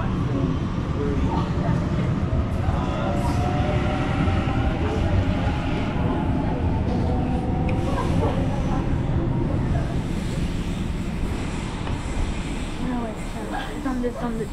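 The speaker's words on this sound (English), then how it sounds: "It's on this side, the special train." A special train passes through Lidcombe station with a continuous heavy rumble and rolling clatter that holds steady throughout, while people talk nearby on the platform.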